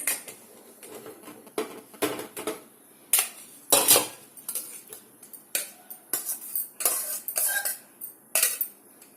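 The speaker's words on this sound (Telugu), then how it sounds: "ఇప్పుడు దీంట్లో నుంచి అన్నం మనం దీని మీదకి వేసుకోవాలి" A metal spoon scrapes and knocks against a hot pan while cooked rice is spooned in for chicken biryani, making a busy string of loud, close clinks and taps.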